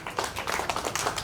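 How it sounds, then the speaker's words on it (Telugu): An audience at a religious gathering claps loudly together, a dense burst of overlapping hand claps continuing briefly at close range without speech. "అందరు గట్టిగా చప్పట్లు కొట్టండి"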